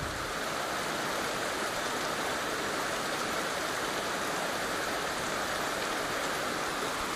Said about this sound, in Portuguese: Já entupiu e a água tá passando por cima.